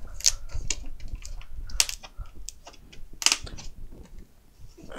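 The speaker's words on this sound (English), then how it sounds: "nobody wants to hear the scan cut. I do. It sings." A Scan N Cut cutting machine works through a sheet of vinyl, giving rapid clicking and whirring mechanical bursts with sharp ticks, close and fairly loud, and no talking over it.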